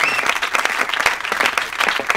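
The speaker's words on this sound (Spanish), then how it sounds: "un aplauso para Rafa, un aplauso para Keke y un aplauso para Maná" A studio audience at the comedy show La Vida Moderna applauds for Rafa, Keke and Maná, loud, steady clapping for the whole stretch with some crowd noise mixed in.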